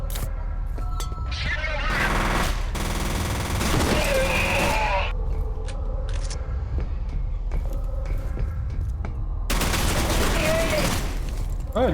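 Rifle gunfire in the video game F.E.A.R.: dense bursts of automatic shots with booming explosions, loud and continuous over game noise, with a voice talking at points.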